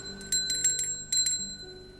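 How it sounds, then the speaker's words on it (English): A small hand bell for sound clearing rings out close and bright, struck in a quick cluster of several chimes, then again after a short pause, its clear tone lingering briefly. "I'll use a little bell as well."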